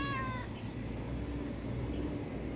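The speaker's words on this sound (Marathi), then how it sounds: "वाघाच्या कलरचं मांजर आहे आमचं" A single drawn-out meow from a tiger-striped cat at the start, then only a low steady background hum with no further calls.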